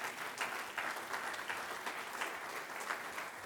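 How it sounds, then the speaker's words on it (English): Steady applause from a conference audience at a political gathering, a dense even patter of many hands clapping at moderate volume for several seconds with no voices over it. "So let's give them a big round of applause as well."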